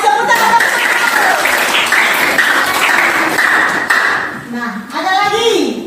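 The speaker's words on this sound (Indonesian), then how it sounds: "Baik, terima kasih tepuk tangan." Classroom students at a junior high school in South Nias clap together in a sustained burst of applause, loud and steady for several seconds, then fading as a teacher begins speaking near the end.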